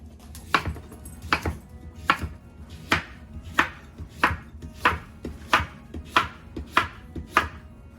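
A knife chops through a rampante squash on a board, about a dozen crisp, evenly spaced cuts close up with a firm thud in each stroke and quiet between them.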